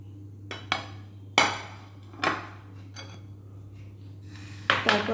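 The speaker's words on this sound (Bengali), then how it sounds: "এবার আমি সেদ্ধ আলুটা এর মধ্যে মিশিয়ে দেব।" Boiled potato is mixed into grated eggs in a bowl, and a utensil clinks and knocks against the bowl in scattered, irregular taps over a low steady hum.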